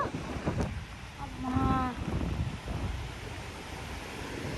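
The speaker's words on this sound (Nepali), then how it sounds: "कस्तो हावा आएको।" Strong wind buffets the microphone in low rumbling gusts, with a brief higher tonal sound partway through and no clear speech.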